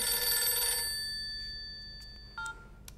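A mobile phone rings with a bright electronic tone that fades and decays, followed by a short beep and a faint click in an otherwise quiet room.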